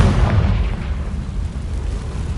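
A Confringo fire spell explodes in Hogwarts Legacy, a loud rumbling blast that opens at once and rolls on as a deep, sustained roar for the whole stretch.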